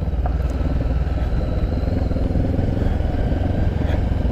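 A Honda CB500X motorcycle being ridden, its engine giving a steady, loud, continuous drone with wind and road rumble throughout and no talk.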